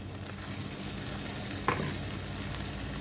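Prawns sizzle and fry in a pan in a steady, close hiss, with one brief clack of a utensil stirring them partway through.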